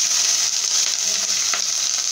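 Onion frying in a pan with bay leaves, a steady close-up sizzle and hiss that carries evenly through the whole moment with no talking.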